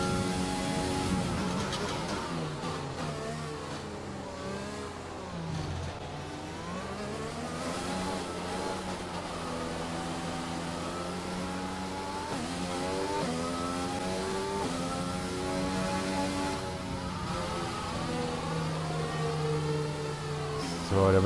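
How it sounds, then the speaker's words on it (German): Mercedes engine of a Formula 1 car in the F1 2020 racing game on a dry race weekend in Vietnam; a continuous engine note rises and falls through gear changes, with revving sweeps and steady high-pitched drone for the whole stretch. "Mercedes-Motor schnurrt da hinten."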